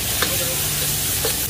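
Garlic frying in a hot wok at a street stall cooking char hor fan, a dense, loud, steady sizzle with a couple of brief stirring scrapes over it.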